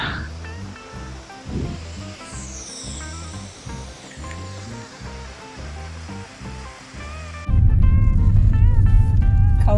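Water of the Banas Stream pouring down beside a hydroelectric plant, a steady broadband rush heard alone without speech. It surges sharply louder and fuller near the end.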